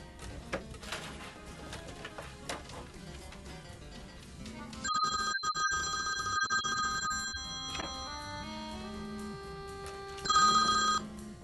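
Telephone ringing with electronic trill tones in an office setting, bursts repeating over several seconds at moderate loudness with a brief quieter gap before a final ring.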